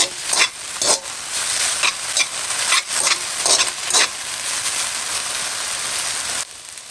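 Noodles are tossed with a Phnom Penh-style dry sauce, giving a steady, close, wet stirring and sizzling hiss with soft rhythmic scrapes, and nobody speaks.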